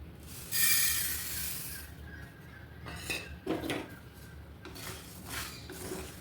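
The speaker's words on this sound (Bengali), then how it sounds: "ততক্ষণ আমি সর্ষেটা রোস্ট করে নিই" Mustard seeds are dry-roasted in a pan over a low flame. A metal spatula scrapes and rattles against the pan in uneven bursts, quiet and close, with no voices.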